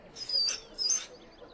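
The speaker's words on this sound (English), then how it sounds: "barking at me, mongrel?" A dog in the video game Dragon Age: Origins gives two short, high-pitched vocal bursts in quick succession over a quiet background.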